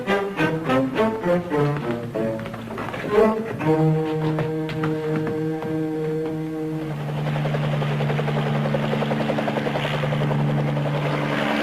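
A helicopter's rotor and engine drone loudly and continuously, a pulsing chop at first that settles into a steady buzzing hum, close by with no speech.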